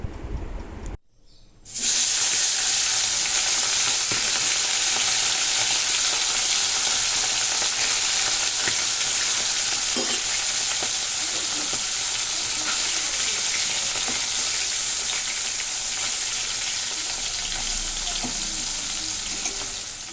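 Panch phoron and whole dried chillies drop into hot oil, bursting into a loud, close hiss that begins suddenly after a brief quiet moment and stays strong and steady to the end.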